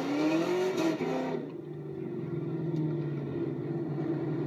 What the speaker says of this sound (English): this is a Terminator Cobra and stuff. And the car sounds really good